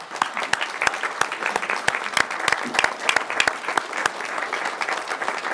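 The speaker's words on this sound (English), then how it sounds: "Let's give Tommy a round of applause." A crowd claps for Tommy at a tribal council meeting, steady dense applause with sharp individual claps throughout, fairly close and loud.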